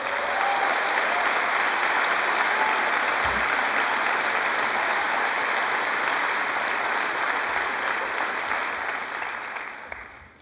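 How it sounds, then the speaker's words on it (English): Broad, continuous applause from a large crowd at a 2014 high school graduation ceremony, even and sustained before tapering off at the close. "Please stand for a round of applause."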